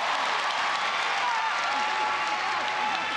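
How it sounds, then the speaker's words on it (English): A mixed martial arts crowd in a Singapore arena roars and applauds in a steady, dense wall of noise that fills the whole stretch, with a commentator's voice faintly underneath. "The crowd popped for Akiyama."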